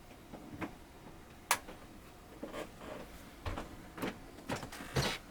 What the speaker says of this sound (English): Let's take a look at the printer. I'm going to turn the machine on.